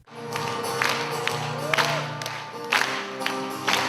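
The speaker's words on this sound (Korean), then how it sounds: "윌셔 이별극장에 모인 천여 명의 어르신들이 신나는 음악에 맞춰 박수를 칩니다" About a thousand seniors at a Korean community concert in LA's Wilshire Ebell Theatre clap along to upbeat music, the steady crowd applause swelling in bursts over the band.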